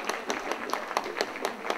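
Audience applause for a KVN comedy team during the warm-up round, a short burst of dense, steady clapping from a crowd in a hall, heard alone without speech.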